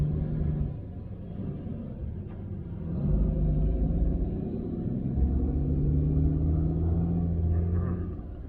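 Big truck passing nearby as a low, heavy rumble that swells from about three seconds in and holds steady with a droning engine tone, muffled and with no talk.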